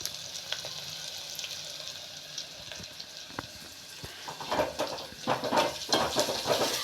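Brinjal sautéing with salt in a pan for a Tamil kara kuzhambu, a steady soft sizzle with occasional stirring scrapes that grow louder and busier toward the end.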